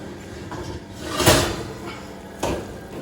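An oven door opens with a sharp clatter and creak, followed a moment later by a lighter second knock, as a frittata is taken out; close and brief in a home kitchen.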